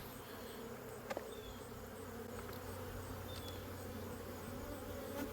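Honey bees hum around an open hive, a soft continuous buzzing drone close by with occasional brief clicks and no talking.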